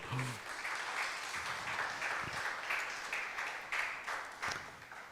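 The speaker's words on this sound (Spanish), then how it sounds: "dale un aplauso al Señor" A church congregation breaks into sustained, dense applause during a Spanish-language sermon, a steady wash of clapping that holds for about five seconds.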